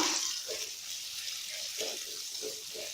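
An egg fries in mustard oil for an egg nest, giving a steady close hiss and crackle of sizzling at low volume, with a few soft murmurs underneath.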